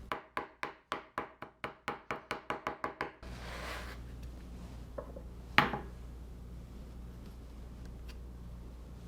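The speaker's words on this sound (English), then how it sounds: "For this recipe, I'm going to chop them up." A knife chops capers for a no-pickle fresh herb tartar sauce, about fifteen quick rhythmic taps on a cutting board, then faint kitchen handling noise and one louder knock.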